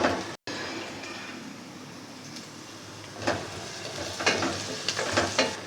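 Whole spices for matar pulao, including bay leaves, cinnamon, black cardamom, black pepper and cloves, sizzling in hot oil in a pan, a steady close crackle with occasional louder stirring scrapes.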